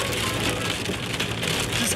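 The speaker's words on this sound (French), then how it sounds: "Il pleut un peu quand même." Steady rain falls and patters on surfaces outdoors in Besançon, a dense, even hiss of drops close by with no voices.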